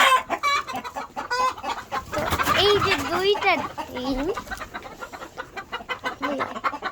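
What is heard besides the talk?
Fayoumi chickens clucking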